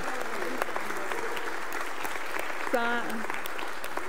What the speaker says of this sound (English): So please just give them a hand of applause for volunteering.